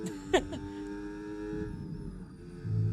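A race car engine whines in the background with a sharp tonal burst near the start and a low rumble rising at the end.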